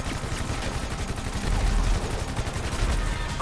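Steady rapid gunfire from an action video game with seemingly endless ammo, dense overlapping bursts of shots and explosions filling the whole stretch at a loud, constant level with no pause.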